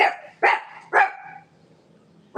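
A dog barks three times in quick succession, close and sharp, then pauses before a fourth bark starts at the end.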